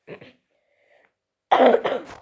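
A short cough opens, followed after a pause by a louder, harsher burst of coughing close by.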